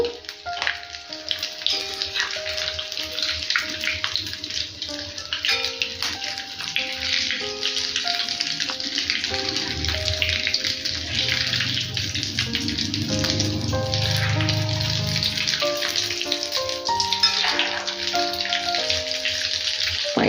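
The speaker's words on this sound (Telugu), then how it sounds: "వేసిన వెంటనే కదిలించకుండా కొద్దిగా ఫ్రై అయిన తర్వాత టర్న్ చేసుకోవాలి" Cheese balls fry in hot oil with a steady bubbling sizzle and crackle that continues throughout. A soft hum and tones run underneath.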